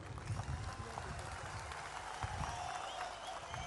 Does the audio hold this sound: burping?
no